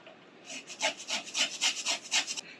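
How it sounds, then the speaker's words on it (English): Garlic grated finely on a grater in a home kitchen, a quick series of about a dozen rhythmic rasping strokes, close and clear with no talking. "I'm also going to grate the garlic because I want it to be fairly fine."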